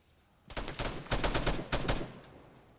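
A burst of rapid automatic gunfire in the military video game Arma 3, a loud, dense volley lasting about a second and a half before cutting off, with no talk over it.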